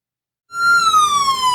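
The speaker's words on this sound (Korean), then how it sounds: "스마트폰 링 홀더에 있는 작은 버튼을 누르자 사이렌이 울립니다." A loud electronic emergency siren from a smartphone ring holder wails after a brief silence, a steady piercing tone sliding slowly downward, close and continuous.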